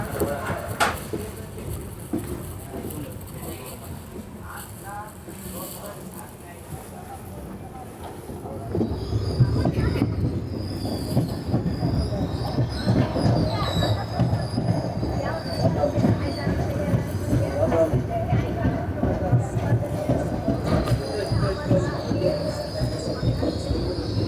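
Shirdi Mysuru Express rolling along the rails, a steady rumble that swells louder partway through, with wheel squeal and faint clatter; a voice speaks briefly in the background.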